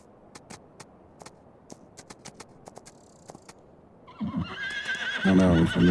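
Horse whinnies in Farming Simulator 25 on the Hutan Pantai map, rising loud near the end after a stretch of scattered clip-clop hoof taps and light clicks over low ambient noise.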